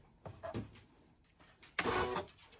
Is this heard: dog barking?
no